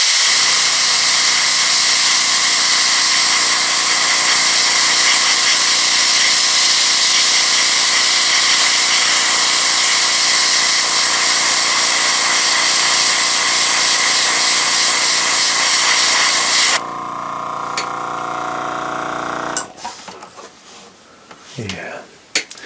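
Super thin flat black paint is airbrushed onto the exhaust stacks of a GP7 model locomotive during weathering: a loud, steady spray hiss runs for about seventeen seconds, then cuts off, followed by faint handling clicks and knocks.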